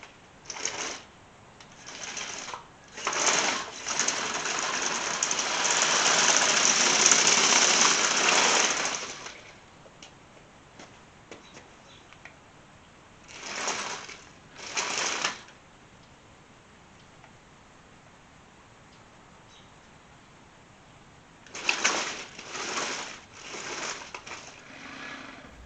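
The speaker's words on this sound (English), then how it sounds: "That sound was the motor spinning inside the drive coupler." A large RC tank's small electric motor whirs in several short bursts, spinning inside the drive coupler, one longer buzzing run followed by brief intermittent spins, with quiet pauses between.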